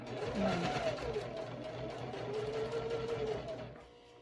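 A domestic sewing machine top-stitches a wallet seam with a steady, close mechanical whir of rapid stitches that slows and stops near the end.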